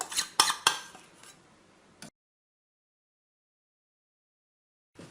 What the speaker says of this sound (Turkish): Tekrardan çırpıyoruz. Bütün malzeme birbirine geçsin.